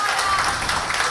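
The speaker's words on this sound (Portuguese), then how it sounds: "Vamos dar uma salva de palmas para Jesus." A church congregation applauds during a Christmas service, a dense, steady wash of many hands clapping that fills the room evenly, with a faint voice rising over it.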